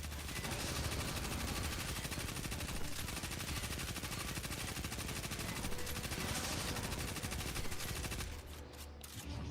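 Sustained automatic gunfire in a video game, a dense, unbroken stream of shots lasting many seconds before it cuts off, loud and close with no voices over it.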